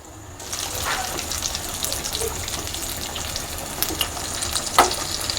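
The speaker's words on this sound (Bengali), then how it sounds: "এগুলোকে এরকম ডুবো তেলেতে এরকম লাল লাল করে ভেজে নিতে হবে" Snacks deep frying in oil on a low flame, a continuous dense bubbling sizzle that starts abruptly and holds steady, with occasional light pops and a brief clink near the end.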